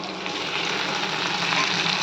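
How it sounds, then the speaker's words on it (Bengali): Crab brain (crab roe) fries in a pan with a steady, close sizzle and crackle that holds evenly throughout, with no voices. "এখন আমি একটুখানি কাঁকড়ার ঘিলু ভাজছি"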